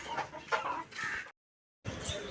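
Chickens clucking in bursts at close range, a few short rounds of cackling broken by a brief silent gap before more clucks resume.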